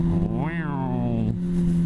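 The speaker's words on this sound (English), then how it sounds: "Maybe the exhaust being loud makes it sound bigger than it is" A 2011 Honda CBR600RR sport bike with a loud exhaust drones steadily while riding, with one sweeping rise and fall in engine pitch, wind noise over the microphone throughout.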